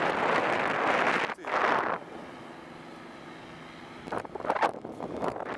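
Wind buffeting a microphone high up while parasailing in Croatia, gusty rushing bursts that drop away to a quieter hum before returning, close and uneven.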